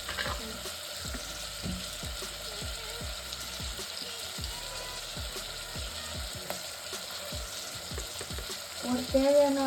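Mutton liver gravy cooks in a clay pot, giving a steady, close sizzle with regular scraping stirs roughly every half second, no voices.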